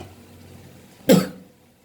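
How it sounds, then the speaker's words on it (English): A single sharp sneeze bursts out about a second in, loud and brief, against a quiet kitchen background with chilies cooking on a stove on low flame. "Sorry, that was my sneeze."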